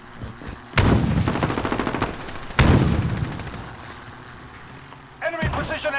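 Video game gunfire erupts in two sharp bursts of rapid automatic shots, each fading into a rattling tail, followed by another brief burst near the end as a voice calls out over the action.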